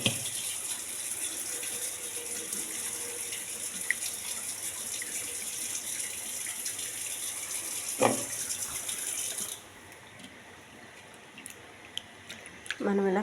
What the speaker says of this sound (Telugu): ఫస్ట్ ట్యాప్ వాటర్ పట్టుకోవాలి. శుభ్రంగా కడుక్కోవాలండి 2-3 సార్లు.